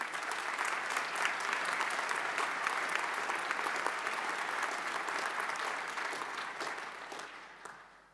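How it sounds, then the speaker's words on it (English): Graduates and guests at a university graduation ceremony give a long, even round of applause from a large hall crowd, steady throughout and tapering off near the end. "Give yourselves a round of applause."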